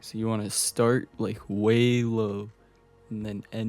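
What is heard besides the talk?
None of the usual background noises is heard.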